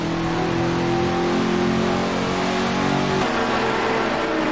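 A GT race car in the Assetto Corsa racing game screams at high RPM down the straight at Imola, a loud, sustained engine howl with a slight pitch shift and no talk over it.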